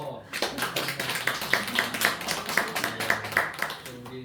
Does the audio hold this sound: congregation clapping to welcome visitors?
yes